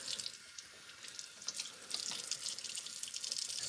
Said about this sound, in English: Here, rinse your mouth out.